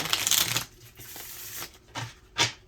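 A deck of small, thin cardstock cards is shuffled by hand, giving close riffling bursts and rubbing rustles in short bouts, with no talking.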